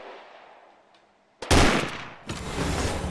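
Loud gunfire in the VR shooting game Gun Club VR: one sharp close shot followed by a second burst of crackling fire, after a quieter stretch of faint background noise.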